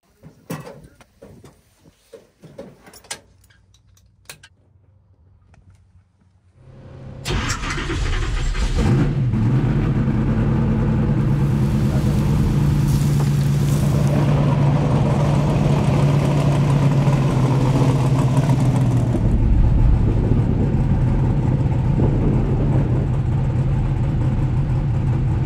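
Car engines at a Texas motorsports park rumble and idle loudly after a few quiet knocks, holding a steady, throaty drone with slight revving for about twenty seconds, no talk.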